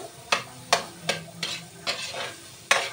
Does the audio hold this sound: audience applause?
no